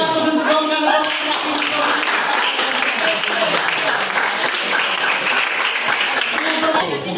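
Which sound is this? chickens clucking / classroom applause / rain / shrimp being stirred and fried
classroom applause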